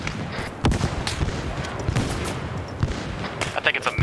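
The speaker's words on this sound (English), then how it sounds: "Careful, grenades." Grenade blasts and rapid gunfire keep booming close by in a Vietnam War shooter game set at an NVA headquarters assault, with dense, overlapping bursts and voices talking over the din.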